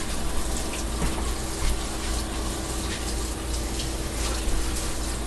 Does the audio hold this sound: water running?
yes